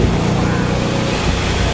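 Supercharged 800 hp Pontiac WS6 Trans Am engine roaring steadily during a ride along, its blower adding a dense, loud, close broadband rush that holds constant throughout.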